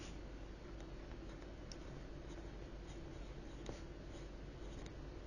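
A Faber-Castell colored pencil scratches steadily across the paper of a Hobonichi planner, producing a faint, continuous close-up rasp with small ticks, and no voices.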